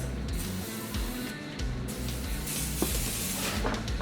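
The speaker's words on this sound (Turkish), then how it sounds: "şimdi ikinci adım olarak e, şu spreyimizi buraya sıkacağız." Oil spray is sprayed onto a waffle maker, giving a short, faint hiss in a quiet room.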